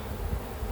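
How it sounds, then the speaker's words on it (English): Honey bees buzz in an open beehive as it is being reassembled, a steady low droning hum of many insects close by, with no talk over it. "There is a ton of bees in here."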